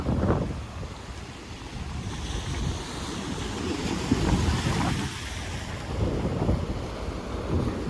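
Sea waves at Marine Drive in Mumbai, a steady broad roar of surf mixed with gusting wind buffeting the microphone, continuous and fairly loud throughout with no talk.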